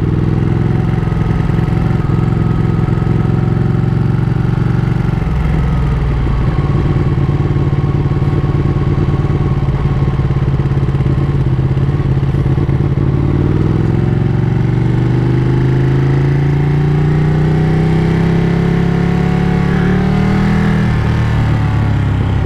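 A 2017 Ducati Panigale 959 engine roars loud and close for the whole ride. The revs climb and fall through gear changes under heavy wind rumble.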